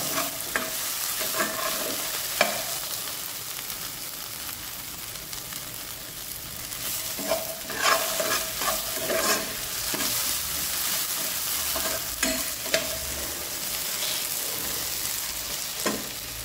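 Ginger garlic paste fries in a pan, a steady sizzle running throughout while a utensil stirs and scrapes in repeated strokes, with sharper clinks every few seconds; no voices.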